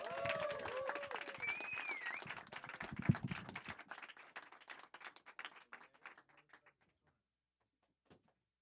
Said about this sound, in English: So let's give a round of applause for our first gentleman coming up tonight, Mr. Mason Guidry